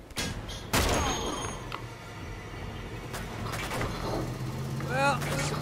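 Gunfire in the Uncharted video game, with sharp broadband shots and bursts scattered across a loud, busy battle mix, and a voice shouting over the action.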